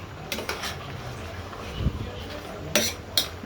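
Metal utensils clink and scrape against a pan as cabbage and beef are stirred, with scattered sharp taps and a few louder knocks over a low background hiss.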